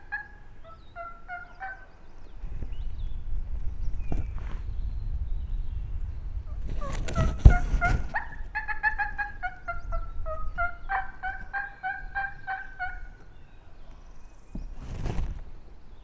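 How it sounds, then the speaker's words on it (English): A wild turkey gobbles repeatedly in rolling bursts, clear but somewhat distant, over steady outdoor background rumble, with a louder close burst of noise midway and another near the end. "he's finally gobbling on his own and sounding like he's working this way"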